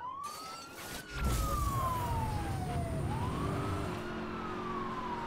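Police car siren in Need for Speed Hot Pursuit 2010, a loud wailing tone sweeping slowly up and down over a steady engine roar, alone without voices.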